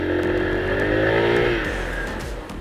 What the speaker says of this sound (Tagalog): may skid sa likod ako naririnig